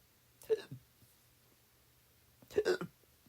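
A man hiccups twice, about two seconds apart. Each is a short, close, voiced gulp, and the room is otherwise quiet.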